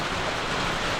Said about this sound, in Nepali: त्यो कत्रो पानी परेको फेरि कत्रो पानी